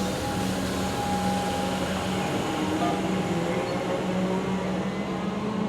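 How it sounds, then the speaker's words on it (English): A heavy freight train rolls through Footscray station with a continuous, close rumble of wheels and wagons, a faint steady tone riding over the dense noise throughout. "Here goes the tonnage train"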